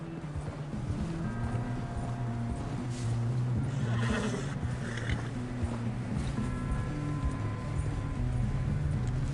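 A horse in the video game Red Dead Redemption 2 neighs and whinnies several times over a steady clip-clop of hooves, with a constant low rumble of game ambience beneath.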